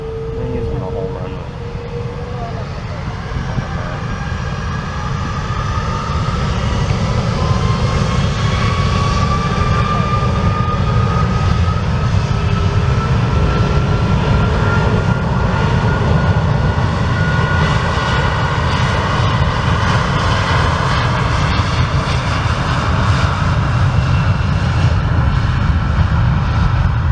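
Steady, loud roar of an Airbus A330 airliner on the runway, building over the first seconds and then holding a broad, continuous engine drone with a rising whine, heard up close and without a break.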